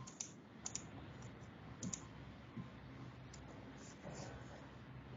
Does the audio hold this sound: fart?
no